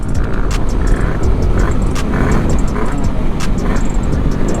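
A Sherco big bore motorcycle accelerates hard on a street ride, its loud engine droning close and steady as it strains for a higher gear. Wind roar rides along underneath the whole time.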